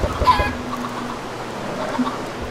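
A chicken in the Minecraft video game gives a short burst of clucks near the start, followed by a steady low background hum with a faint cluck later on.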